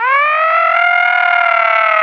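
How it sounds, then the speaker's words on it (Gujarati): A loud siren wails on its own, its tone rising at the start and then holding a steady, sustained pitch for about two seconds in a radio comedy studio setting. "સાયરન વાગ્યું લા."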